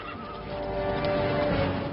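Horse whinnies loudly in a long, wavering neigh, with hooves clopping faintly underneath in an outdoor Western setting.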